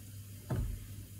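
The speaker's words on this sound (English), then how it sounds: "Let the buns cook." Buns frying in a pan for a Mexican dish give a short, faint sizzle that swells once and fades against a quiet kitchen background.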